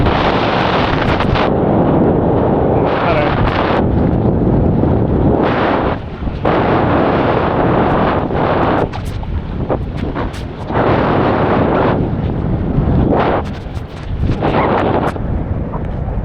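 Strong wind gusts buffet a small sailing boat, roaring hard against the microphone in long loud surges that drop out briefly between blasts, with no voices.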